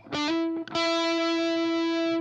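Electric guitar with a compression effect and the spring reverb switched off, a brief plucked note followed by a sustained, evenly held chord ringing with steady, even loudness.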